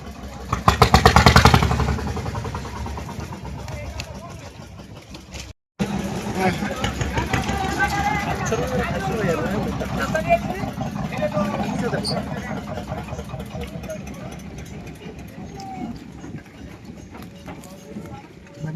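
A river trawler approaches a ghat while a crowd waits to cross by boat. Its engine drones steadily in the background under constant nearby talk, with a louder rattling burst early on.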